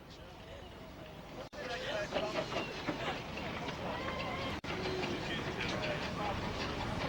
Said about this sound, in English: As the locos move forward